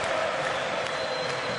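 Basketball arena crowd at a Morocco versus Tunisia game roaring in support of Tunisia, a steady dense wash of cheering and noise sustained throughout without a break.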